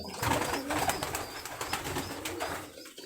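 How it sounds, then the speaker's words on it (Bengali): Bangladeshi rolling pigeons coo indoors in a room, a steady layered cooing from several birds close by, with no one talking. "আমরা রুমের মধ্যে কবুতরগুলো দেখাচ্ছি"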